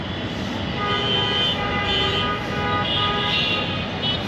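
Car horns honk repeatedly over steady street traffic noise, a mix of overlapping toots from several vehicles, fairly loud and continuous.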